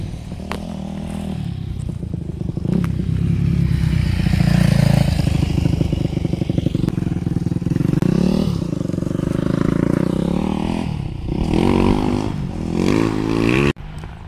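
Motorcycles run along a dirt trail shared with four-wheelers, engines droning loudly as they pass close by, with sharp rising revs and clatter near the end.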